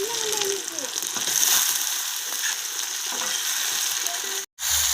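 Tomato, onion, ginger and garlic masala frying in a pan for a village-style chicken kosha, a steady close sizzle that breaks off for a moment near the end before resuming.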